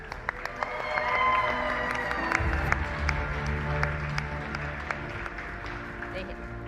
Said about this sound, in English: Now we cheer.